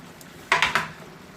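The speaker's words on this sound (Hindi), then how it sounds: "इसको अच्छी तरह मिक्स कर लेते हैं।" A spoon stirs vegetable biryani in a metal pot, giving three quick clinking scrapes close by, with near silence on either side.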